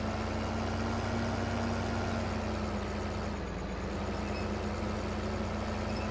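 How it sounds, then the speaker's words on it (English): An articulating tractor engine in Farming Simulator 2015 drones continuously, a steady loud idle-like rumble with a constant hum throughout and no speech. "These articulating tractors always make for fun to drive."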